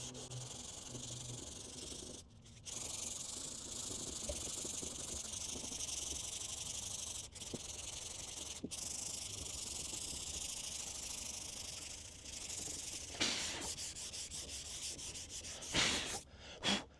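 Steady, hissing strokes come from 220-grit sandpaper blocking a thin layer of polyester glazing on a car panel. The sanding is close and continuous, with a few brief pauses and sharper scrapes near the end.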